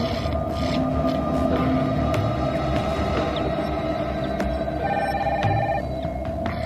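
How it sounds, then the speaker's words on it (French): A telephone rings with a steady electronic trill, repeating over a constant background hum for about seven seconds, with no talking. "Au même moment, le téléphone sonne"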